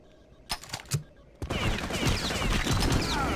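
Rapid MP40 submachine-gun fire during a Wolfenstein-style online match, a dense crackling burst starting after a few isolated shots and running loud and continuous to the end.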